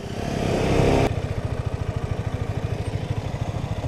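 Two 125cc motorcycles, a Mondial and a KTM, rev loudly at first, then their engines settle into a steady, close, pulsing idle as the bikes are ridden in and parked.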